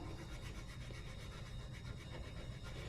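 Guitar frets are sanded with 1200 grit sandpaper: a faint, continuous rubbing scrape with a soft back-and-forth texture and no talking.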